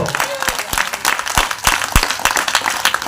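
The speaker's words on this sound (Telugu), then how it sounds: "గట్టిగా చప్పట్లు" A church congregation applauds loudly during a sermon, close, dense clapping mixed with crowd noise that holds steady for a few seconds.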